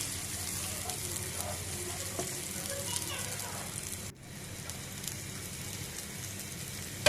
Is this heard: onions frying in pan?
yes